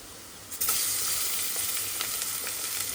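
Chicken drops into a pan of fried onions. A sudden loud hiss breaks out after a quiet start and settles into a steady close sizzle with faint crackles, and no one speaks.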